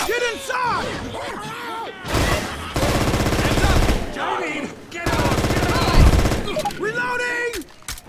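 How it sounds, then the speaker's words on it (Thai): Rapid bursts of gunfire from the video game Left 4 Dead 2, sustained volleys of shots at close range alternating with excited voices talking and shouting over the action. "ยิงยิงยิง"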